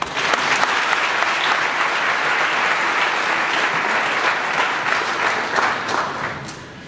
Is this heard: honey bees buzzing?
no